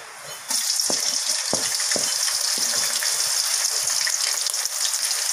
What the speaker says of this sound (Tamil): இப்போ பச்சை மிளகாவும் கருகப்பிலையும் போட்டுக்கலாம்.